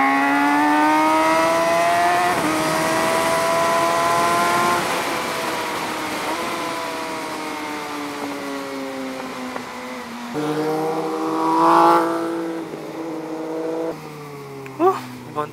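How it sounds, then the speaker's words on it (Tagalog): Kawasaki ZX6R with an M4 GP exhaust, ridden on Marilaque: a loud engine revving up and down in sweeping tones, with a burst of crackling pops and bangs around the middle and a few sharp pops at the end. "Nagbabackper yung M4 eh. May pops and bangs."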